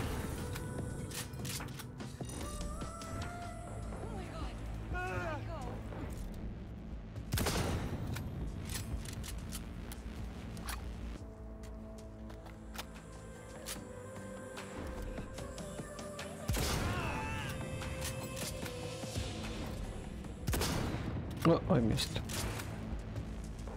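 A cannon-like gun fires in the Cyberpunk 2077 video game, with a few loud, sharp blasts spaced several seconds apart over quieter game sounds and ambient background.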